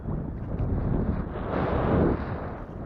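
Strong wind roars and buffets the microphone during rafting in bad weather, a continuous loud rushing that swells in the middle, with no voices.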